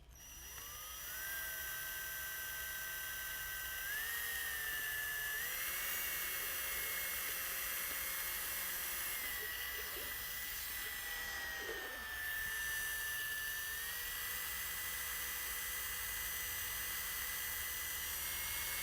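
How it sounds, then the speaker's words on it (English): A mixer churns sprayable microcement with satin additive, giving a continuous loud, high whine with strong harmonics that shifts pitch a few times as the load changes, with no talking. "We want to mix until the point where you see no more, obviously, white, dry powder."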